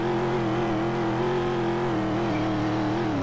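A rally car in a Roblox driving game runs off-road with a steady, droning engine note that wavers slightly in pitch, loud and continuous with no talking.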